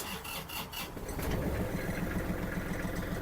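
A Kubota GL-21 Japanese mini tractor diesel engine turns over with a few uneven cranking pulses, then catches into a steady, close, rhythmic knocking idle, heard alone without talk.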